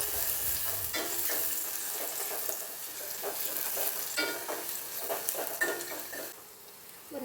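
Onions frying and sizzling in a pan on the stove, with a spoon stirring and scraping steadily through the hiss and occasional clinks of the pan, no talking.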